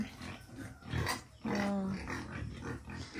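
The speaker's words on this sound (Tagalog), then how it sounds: "Meron silang mga kulungan ng baboy" Pigs penned in a backyard enclosure, giving low grunts and a short squeal-like call over a steady busy background, fairly close.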